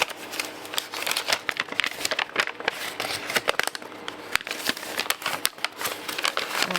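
Wrapping paper from a mystery box is torn and crumpled up close in a busy run of crinkles, rips and rustles, with no talk.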